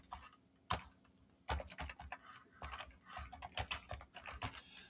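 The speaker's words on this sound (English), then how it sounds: "I'm typing in the dark, so just give me a second." Typing on a computer keyboard in the dark: irregular bursts of close, soft key clicks in quick runs separated by short pauses, with a faint steady hum beneath and no speech.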